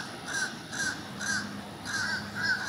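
A crow near a turtle nest on a Southwest Florida nature trail gives a series of harsh, repeated caws at a steady rhythm, each call clear and fairly close, over soft outdoor ambience.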